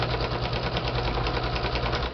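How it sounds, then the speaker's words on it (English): Steady close hum and rapid needle chatter from a sewing machine stitching through the lining of a lace pouch, continuous and unbroken throughout. "So now I'm sewing through the lining as well."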